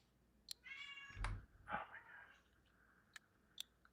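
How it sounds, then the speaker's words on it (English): A pet cat meows close by, a drawn-out whining call followed by a second shorter cry, with a few sharp clicks around it and a person briefly exclaiming. "My cat's going a little crazy at the moment."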